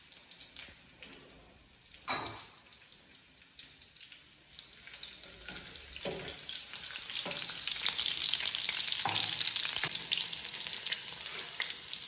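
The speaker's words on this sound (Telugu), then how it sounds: "ఆయిల్ కొంచెం హీట్ అవ్వగానే ఇందులోకి పచ్చిమిర్చి వేసేసుకుందాం" Green chillies fry in a small amount of oil in a kadai, a steady sizzle that grows louder and denser over the second half, with a few clattering stir knocks along the way.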